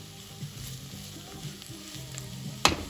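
Lentil soup ingredients with smoked sausage sizzle softly in a pot on the stove while being stirred, with light scraping throughout and one sharp clink near the end; no voices.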